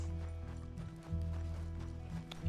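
Hoofbeats from a horse in a video game clop faintly and steadily over a low humming backdrop, a short continuous patter without voices.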